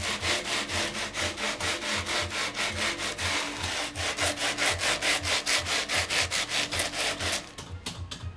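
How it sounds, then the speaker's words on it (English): Sandpaper rubbing rust off an arcade dance machine cabinet in rapid, even back-and-forth strokes, close and steady for several seconds before slowing at the end, with no talking. "I can tolerate the sound of sandpaper"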